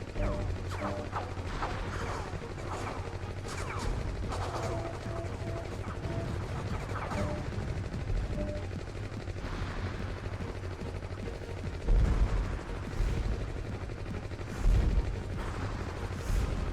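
Gunfire from enemy ships in the SeaBlade video game, dense rapid shots and mechanical clatter under a continuous engine drone, with louder impacts near the end.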